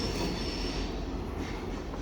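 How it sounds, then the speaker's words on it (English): A short train of one locomotive and two cars rolls past with a steady broadband rumble and a thin wheel squeal, continuous and fairly close, with no voices. "I think that's the train."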